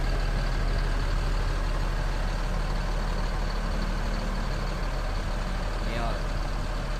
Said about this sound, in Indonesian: Proses pemberangkatan bis Ranah Minang ini lagi menaikkan penumpang ya.